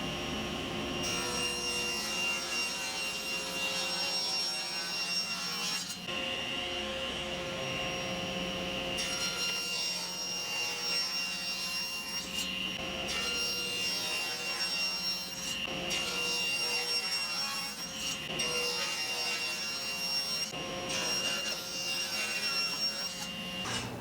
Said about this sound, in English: with my table saw fence set at 9 inches, go ahead and rip 5 vertical dividers